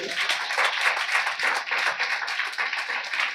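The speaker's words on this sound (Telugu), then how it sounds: "గట్టిగా చప్పట్లు కొడదామా ఒకసారి" A church congregation claps loudly and steadily during a Telugu Sunday sermon, a dense continuous burst of many hands with no talk over it.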